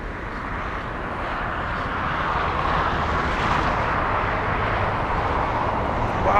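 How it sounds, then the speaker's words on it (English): An EVA Air airliner arriving from Taipei passes over LAX, a broad, roaring jet-engine rush that swells steadily louder as it approaches. "we have EVA 12 flying in from Taipei"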